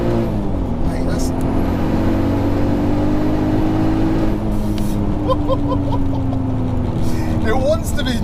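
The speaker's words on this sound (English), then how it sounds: "It's just spooling up and then on." A 462bhp Golf R32 turbo engine spools up from inside the car, a loud, steady rising drone that builds and then settles into a gear change, with people talking over it.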